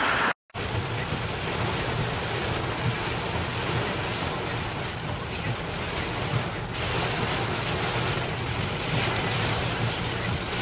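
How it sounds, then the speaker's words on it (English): Heavy rain from Hurricane Nana in Honduras hisses in a steady, dense wash for about ten seconds after a brief cut at the start, with a low rumble beneath and no talk. "A lot of rain, a lot of water."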